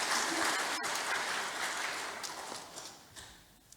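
A congregation at a Sunday service gives a round of applause for two trainee ministers. The dense, distant-sounding clapping gradually thins and fades, leaving a few scattered claps at the end.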